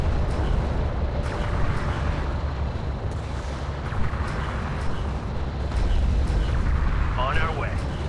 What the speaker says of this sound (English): Alert. Carrier is taking fire.